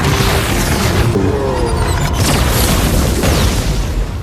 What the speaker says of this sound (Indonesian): Kekuatan senjata itu membuat seisi bangunan meledak